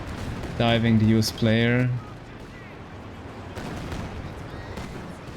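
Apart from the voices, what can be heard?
Katyusha rocket artillery barrage in a strategy video game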